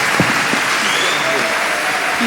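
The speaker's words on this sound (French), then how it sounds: "Marcus Mosiah Garvey, que je vous demande d'applaudir fortement," Audience applause at a pan-African congress in Kinshasa, a dense steady wash of clapping that holds at an even, fairly loud level for the whole stretch.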